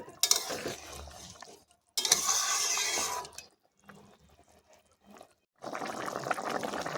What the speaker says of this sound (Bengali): চিংড়ি মাছ দিয়ে আবার একটু নেড়ে চেড়ে দেবো।